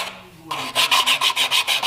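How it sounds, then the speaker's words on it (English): Sandpaper rubbed hard along a wooden stick being shaped into a fishing popper lure, a rough rasping scrape repeating in quick even strokes, close and loud, with no talking. "Now the sandpaper is rubbing off, like the actual sand is rubbing off of it eventually"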